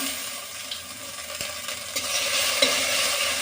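Two bay leaves and grated ginger sizzle in hot tempering oil in a home kitchen pan. A steady close hiss builds gradually, with a few light clinks of the utensil against the pan.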